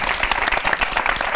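A church youth audience bursts into a short, dense patter of many hands clapping close by, lasting only a moment.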